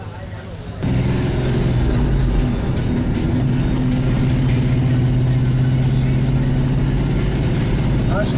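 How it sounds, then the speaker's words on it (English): A Chevrolet Camaro cruising on the road on a Sunday morning around Burtonsville, a steady loud engine drone and road rumble heard from inside the car after it starts up, with a voice speaking over it. "I take the Camaro out every Sunday morning, and this is what I enjoy."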